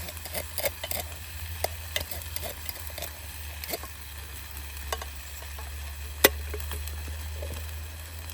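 Sausage and beans cook over an outdoor fire in the woods, giving a soft, steady sizzle with faint crackles and scattered small clicks and taps, quiet and close.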